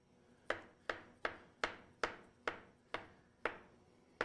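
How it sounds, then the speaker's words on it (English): Steady knife chops through bananas on a cutting board, about nine crisp even strikes a little under half a second apart, close and alone. "we got our bananas diced up"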